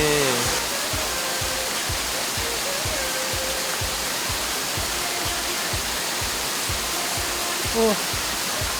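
A cold waterfall rushing in a steady, loud, broadband roar that stays constant throughout, with faint voices briefly audible near the end.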